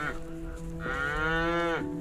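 A cow lowing in the foggy Caucasus mountains: a short moo followed by a longer, loud, drawn-out one, close by, over low wind noise.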